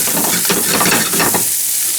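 Garlic frying in a pan while being stirred: a steady close sizzle with scraping bursts of utensil strokes, fading to quieter crackling toward the end.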